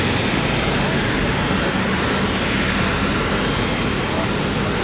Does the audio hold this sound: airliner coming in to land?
yes